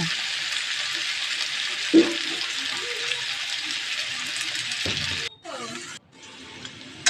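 Potatoes frying lightly in a pan make a continuous soft hiss, with a few metallic clinks and scrapes from stirring. The sizzle cuts out near the end, and a brief voice is heard.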